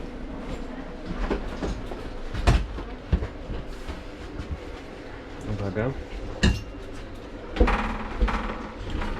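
Inside a moving train, steady rumbling and rattling with sharp metallic clanks and knocks, and people talking faintly in the background.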